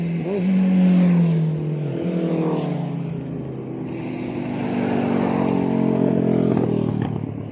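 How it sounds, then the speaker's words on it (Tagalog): Engines roar past one after another, pitch dropping as each speeds by close, a continuous stream of fast motorcycle traffic. "Bibilis ng mga sakyan natin, mga motor oh."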